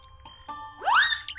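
A doorbell at a village house gives a bright electronic chime with rising tones, ringing once clearly after a couple of faint clicks, fairly near and alone with no voices.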